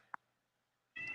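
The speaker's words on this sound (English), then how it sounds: "Yep. That's my cat." A pet cat gives one short, clear meow indoors, close to the microphone, followed by a brief pause and then a louder, longer second meow.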